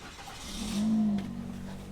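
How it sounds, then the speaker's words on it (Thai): A 2022 Toyota Yaris 1.2 Sport with CVT gearbox starts up, catching quickly with a brief rising rev before settling into a steady low idle. "เดี๋ยวขอ สตาร์ทเครื่องยนต์ให้ดูเลขใหม่นิดหนึ่ง"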